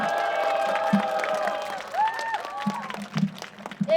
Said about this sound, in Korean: 우리 이슬양에게 다시 한번 큰 박수 부탁드립니다.